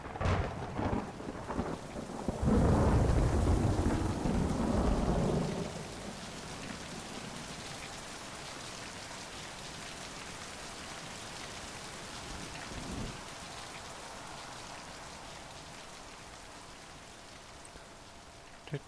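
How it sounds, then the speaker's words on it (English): Steady video game rain patters continuously, with a heavy rumble of thunder early on and a fainter roll later. "Oh, it didn't even stop freaking raining."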